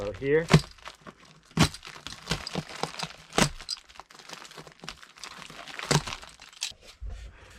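A utility knife slices through ceiling insulation during an open-ceiling bathroom fan install, giving several sharp crinkling, tearing bursts close by, with a voice speaking briefly between the cuts.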